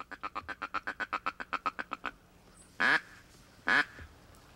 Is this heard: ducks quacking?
yes